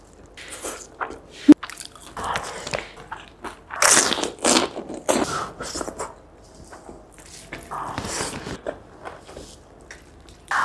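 Crunchy bites and chewing of ayam pop (fried chicken) come close up, with irregular crisp crunches and wet squishy chews spread across the stretch, plus one sharp click early on.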